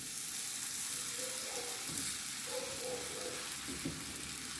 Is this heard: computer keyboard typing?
no